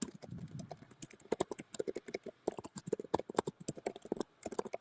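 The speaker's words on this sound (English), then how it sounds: "I'm typing that down so I remember" Someone types on a computer keyboard in a quick, uneven run of close, crisp key clicks, with brief pauses between bursts and a soft murmur at the start.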